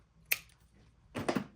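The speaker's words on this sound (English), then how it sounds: "So I need some scissors." Scissors snip through twine in a paper craft jam jar project, one sharp cut followed by a quick double snip, close and otherwise quiet.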